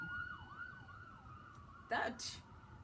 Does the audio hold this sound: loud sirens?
yes